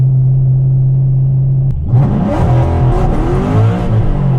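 A car launches hard on a test-and-tune pass: a steady idle rumble, then a sudden loud surge of engine revving with spinning tires, climbing and wavering under throttle.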